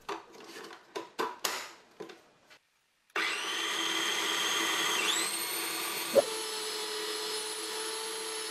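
Kitchen blender whirring steadily after a few handling knocks, mixing falafel ingredients with cumin and sesame oil; the motor pitch shifts midway, then it runs on loud and alone.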